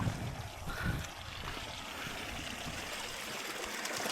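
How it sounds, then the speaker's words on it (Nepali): Water gushes steadily from a spout fed by a stream in rural Nepal during heavy rain, a continuous, moderately faint rushing wash with no talk over it. "खतरा धारा रहेछ"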